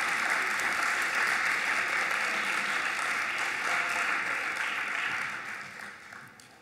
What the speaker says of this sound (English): Just give them another round of applause